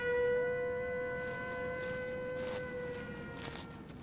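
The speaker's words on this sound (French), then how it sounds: "C'est sûrement une voiture avec une sirène, pas de panique." A long, steady siren wail said to come from the creature Siren Head, heard outdoors during a survival challenge; the tone holds nearly level with slight pitch wavers and no one speaks over it.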